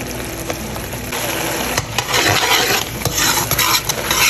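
Green chilies stirred in a pan over high flame make a hissing sizzle with repeated scraping and clinking of the spoon against the pan, fairly loud and close.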